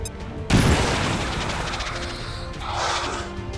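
A frag grenade going off in the video game XCOM 2, one sudden loud blast that opens into crashing debris and a long rumbling decay, with more clattering rubble close by toward the end.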